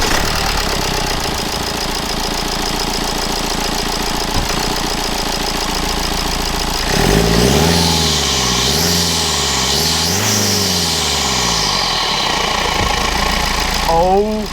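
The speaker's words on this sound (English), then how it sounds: "Let's start it up and give it a few revs now with obviously the new performance filter installed." A BMW E90 320d diesel fitted with a Ramair induction kit, first idling with a loud, rough knock, then revved several times in rising and falling sweeps close to the microphone. Induction noise stands out during the revs.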